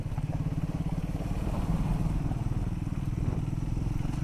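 A Triumph Scrambler 400X motorcycle being ridden off-road, its engine giving a steady, loud, close-up thrumming rumble with a dense low pulse that holds throughout, slight swells, and no talk.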